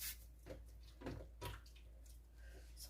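Water is poured into a pan of chicken béchamel lasagna, a soft, quiet splashing in a few short bursts with no talking.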